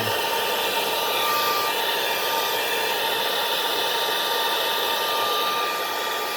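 A hair dryer blows steadily and loudly with a constant whirring hiss and a high motor whine, uninterrupted throughout.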